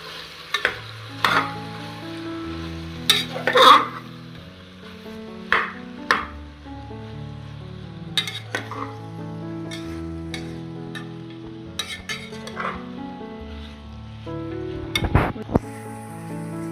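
Half a kilo of chicken stirred with vegetables in a pan for a Kerala-style chicken stew, giving steady close sizzling broken by scraping spoon strokes and a few sharp clinks against the pan, with no talk.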